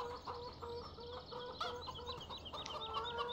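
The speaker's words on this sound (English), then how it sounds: "I'm going to take a look at these chickens" Farm chickens clucking in the farming game Goldcrest Valley, a flock of hens giving repeated short, choppy clucks and squawks over a steady low ambient hum, moderately loud and without any talk.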